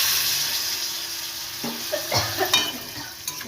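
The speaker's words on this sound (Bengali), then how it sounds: "এবারে আমি এই মশলার জলটা দিয়ে দিচ্ছি" Spiced water poured into a curry that has been fried down in the pan, giving a steady sizzle under broadband hiss with a few sharper bursts and splashes toward the end, close up and with no talking.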